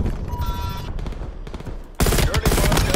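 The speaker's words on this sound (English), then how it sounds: "Dirty bomb detonated" Dirty bomb detonating in Call of Duty Cold War, a dense burst of rapid gunfire-like crackles and pops followed by a sudden loud explosive roar that fills the last second, all close and harsh.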